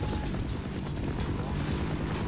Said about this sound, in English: Is that helicopter shooting me?